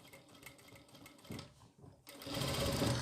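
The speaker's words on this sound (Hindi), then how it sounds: "हम इसे ऐसे फोल्ड करेंगे, यहाँ लगा देंगे सिलाई" Sewing machine stitching a folded fabric seam on an umbrella sleeve, a short close whir that pauses briefly, then picks up again louder and faster.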